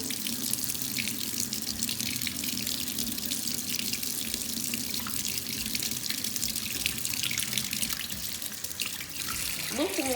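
Tap water runs steadily into a kitchen sink to fill it with lukewarm water for washing fruit and vegetables, a continuous close splashing and hiss, with a brief higher clink near the end.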